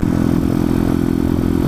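A small motorcycle engine, likely a Honda CT70 or Z50 minibike, roars loud and steady at high revs as the rider pulls a wheelie uphill, close and continuous.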